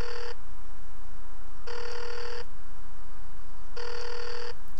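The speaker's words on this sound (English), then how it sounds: "It's ringing there now, don't you hear?" A phone rings on a 3G video call between an HTC Diamond and a Nokia N95, three repeated bursts with short gaps between them, loud and clear, electronic trilling over faint background hiss.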